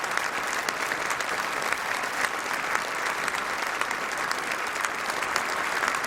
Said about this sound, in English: Her Majesty acknowledging the applause